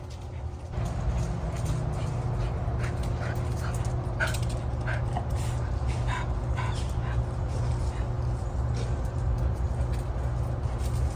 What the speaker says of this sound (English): So the dogs are outside playing with each other right now.